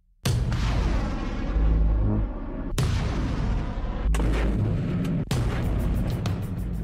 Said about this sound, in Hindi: यहां यूक्रेन की सेना ने मल्टी रॉकेट लॉन्चर सिस्टम से रूस पर ताबड़तोड़ हमले किए, जिससे पूरा इलाका गूंज उठा।